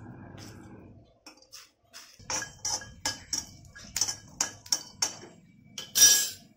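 Roasted sesame seeds and peanuts are crushed for a spicy modak filling: a quiet start, then a run of about a dozen sharp, knocking pounding strikes at an uneven pace, close and growing louder toward the end.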